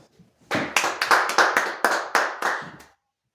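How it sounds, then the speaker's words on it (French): A church congregation bursts into loud applause, a dense burst of clapping with rhythmic peaks that lasts close to three seconds and then stops abruptly. "Acclamons très fort."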